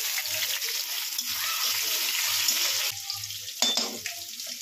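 Crushed garlic and onion fry in a pan with a continuous close sizzle and occasional stirring scrapes and knocks near the end; no speech is heard.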